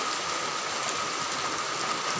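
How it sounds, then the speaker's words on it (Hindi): Steady rain falling on the mountain road between Sonprayag and Kedarnath during the rainy season: a continuous dense hiss with no breaks, heard alone without voices. "रात से बारिश हो रही है"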